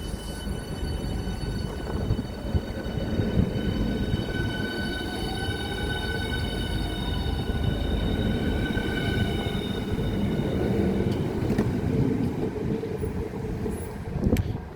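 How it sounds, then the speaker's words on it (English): A Southeastern passenger train at Ashford International station, running as a rush-hour service to London St Pancras, rumbles steadily and loudly past with rolling wheel noise and faint high whines throughout. "the 1639 Southeastern service from Ashford International and Margate to London St Pancras"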